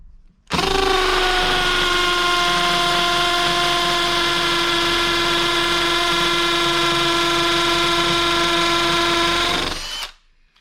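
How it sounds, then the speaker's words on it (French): A Makita DHP458Z cordless hammer drill bores with a 12 mm bit in one loud, close, continuous whine. It runs steadily for about ten seconds, then spins down and stops. "avec cette petite perceuse à percussion, ça fonctionne déjà plutôt pas mal"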